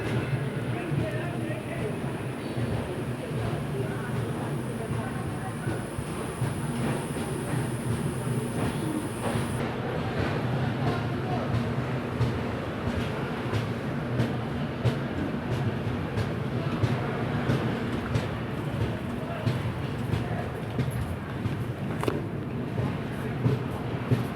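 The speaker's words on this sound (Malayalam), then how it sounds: "ദാനാപൂരിൽ നിന്ന് ബാംഗ്ലൂരേക്ക് പോകുന്ന ട്രെയിനാണ് അപ്പുറത്തെ പ്ലാറ്റ്ഫോമിൽ എത്തിയിരിക്കുന്നത്." A passenger train running from Danapur to Bangalore pulls into the next platform at an Indian railway station, a long steady rumble with wheel squeals and clatter, and a voice talks over it throughout.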